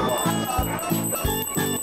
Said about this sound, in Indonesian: Apa itu? Lonceng.